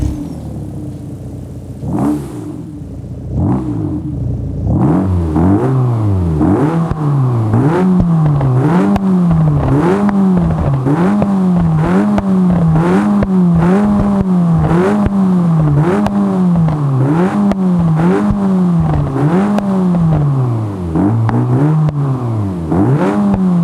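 A Volkswagen Golf 8 engine turns over and catches, then revs up and down over and over in a steady rhythmic pattern, each rise and fall sounding loud and close with a slight crackle between revs.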